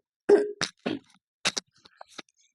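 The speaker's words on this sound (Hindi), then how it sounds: "मुझे थोड़ी सी खांसी वगैरह आ रही है" A man coughs and clears his throat several times in quick succession, close and fairly loud, with short gaps between the bursts and no talking.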